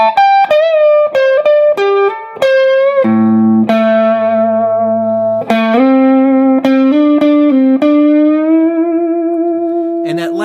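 An electric guitar plays a distorted, reverb-soaked solo lick, with quick picked notes, a long sustained low bend and a final upward bend, loud and upfront.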